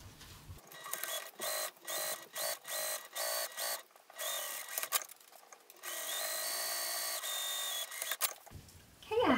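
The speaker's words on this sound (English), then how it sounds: "I'm going to go ahead and top stitch 1/8 inch away along that edge" A sewing machine top stitches along the edge of a small fabric pouch, running in short rapid bursts separated by pauses, then a longer steady run before stopping.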